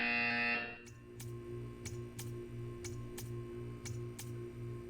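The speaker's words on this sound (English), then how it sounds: "You will hear a buzzer." Buzzer from the Portal 2 video game sounds as a series of short, evenly spaced electronic beeps, about eight in a row, fairly quiet, following a brief louder tonal sound at the start.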